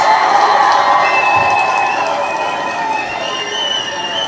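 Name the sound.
audience applause and cheering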